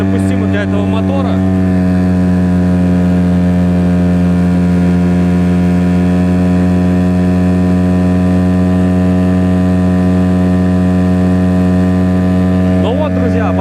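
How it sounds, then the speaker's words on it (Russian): An outboard motor on an Admiral 320 inflatable boat holds a loud, steady drone at 5500 rpm, its maximum, throughout, close and unbroken, with a brief rise and fall at the start and end. "Сейчас будем делать обороты 5500, ну как максимально допустимо для этого мотора."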